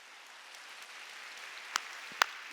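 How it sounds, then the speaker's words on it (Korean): A church congregation applauds during a Sunday worship service, making a faint, steady wash of clapping with a few sharper, distinct claps near the end. "하나님께 박수 주세요."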